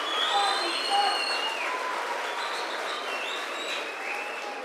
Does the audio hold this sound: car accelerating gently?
no